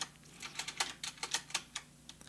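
Mechanical keyboard being typed on, a quick irregular run of crisp clacking keystrokes, fairly close and quiet, with no voices.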